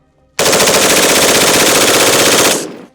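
An automatic rifle fires one long sustained burst, loud and close, a rapid, even stream of shots lasting about two seconds before cutting off with a brief echo tail.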